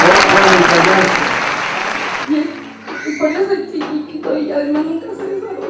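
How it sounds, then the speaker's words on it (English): Congregation applauding during a church service, a dense burst of loud clapping that breaks off after about two seconds, followed by talk over a quieter room. "Let us clap to Jesus."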